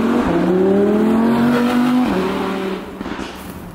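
An Audi R8 V10 Spider engine revs hard up through the gears and holds a rising, tonal howl close by, then drops sharply and fades, with no talk over it.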